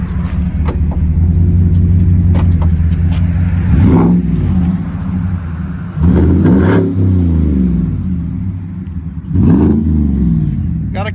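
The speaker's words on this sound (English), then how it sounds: "Got a nice deep idle to it too" A Chevy/GMC 6.2L V8 rumbles at a deep, loud idle nearby, broken by three short throttle blips that rise and fall around the four-, six- and nine-second marks.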